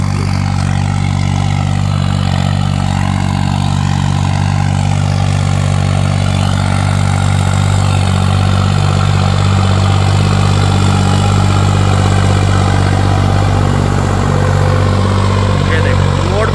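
A modified tractor engine runs steadily through a sandy field, its low, even drone loud and continuous across the whole stretch with little change in pace.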